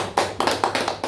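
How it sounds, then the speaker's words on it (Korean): An audience at a lecture on Korea's UNESCO-listed documentary heritage claps. About five sharp, evenly spaced hand claps land close together in a quick, loud burst with no voices. "박수 한번 쳐줘야 됩니다"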